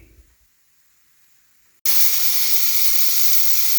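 Rolls toasting on a camp stove give a loud, steady sizzling hiss. It starts abruptly after near silence and runs evenly to the end.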